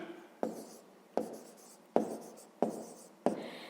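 Pen strokes on paper while working a 5th-grade maths exercise, five short scratchy bursts about every three-quarters of a second, close and fairly quiet with no speech.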